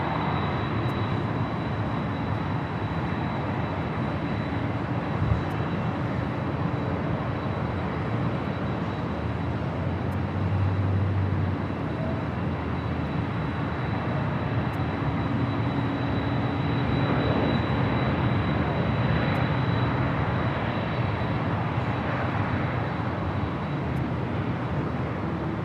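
Asiana Airlines jet airliner at LAX airport gives a steady, broad engine roar heard from a distance, continuous for the whole stretch with a thin high whine above and no talking.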